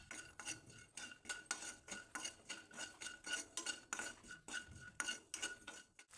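Peanuts fry in a hot kadai as a spoon repeatedly scrapes and clinks against the pan, producing a steady rhythm of metallic stirring strokes close by.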